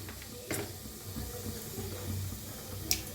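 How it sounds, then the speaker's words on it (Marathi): Mustard and cumin seeds splutter in hot oil for a tempering, a soft steady hiss punctuated by a few sharp pops and crackles, close but fairly quiet. "चांगलं तडतडू देऊया"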